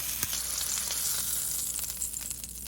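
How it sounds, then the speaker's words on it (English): A sous vide sirloin steak sears in a hot pan, producing a loud, continuous, close sizzle with faint crackles throughout. "We're just trying to sear it and get that color on the outside."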